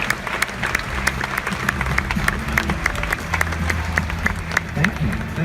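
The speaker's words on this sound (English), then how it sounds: "Can we give everyone a round of applause?" At a network marketing seminar, the audience claps in scattered sharp bursts while voices and cheering carry underneath, the applause uneven rather than a solid roar.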